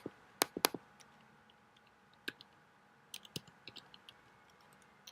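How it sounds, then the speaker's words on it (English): Numbers tapped out on a computer keyboard: a few sharp, close key clicks in small bursts with gaps between, alone in a quiet room. "Let me start off this video with typing in a set of numbers."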